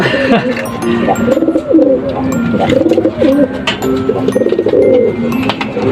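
Racing pigeons coo close by in repeated low, throaty rolling calls, loud and overlapping, with occasional faint chirps in the background.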